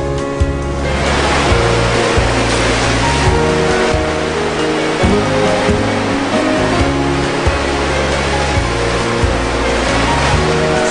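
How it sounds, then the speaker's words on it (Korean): Surf rolling in on Jeju's south coast in spring, a loud continuous wash of breaking waves with repeated surges, heard close and alone with no voices. "여기 남쪽 바다에서 막 파도가 밀려오는데"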